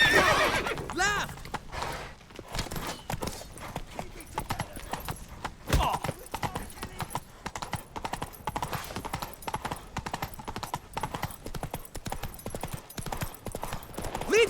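Horse galloping with rapid clip-clop hoofbeats and repeated loud neighs in The Witcher 3: Wild Hunt, continuous and close throughout.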